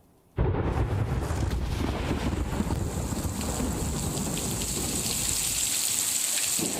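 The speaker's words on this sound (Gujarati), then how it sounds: "સુરત શહેરમાં ધોધમાર વરસાદ વરસી રહ્યો છે" A heavy downpour over Surat bursts in abruptly, then holds as a dense, loud, continuous roar of rain, with wind buffeting the microphone throughout.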